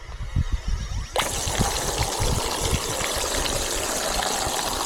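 Water pours steadily into containers in the desert before a mountain hike. A soft trickle comes first, then a louder, even gush runs for about four seconds.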